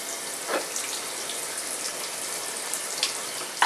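Tap water runs steadily into a sink or tub while a pet is being washed, a soft continuous hiss with a few splashes and small clatters, no speech.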